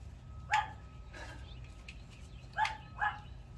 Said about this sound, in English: That dog is just too crazy. You tell her no, she barks louder.